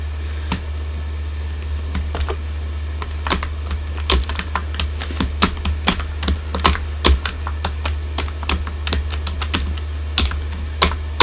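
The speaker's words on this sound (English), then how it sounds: "I'll type it out." Someone types steadily on a computer keyboard, with brisk, irregular key clicks running throughout over a constant low electrical hum.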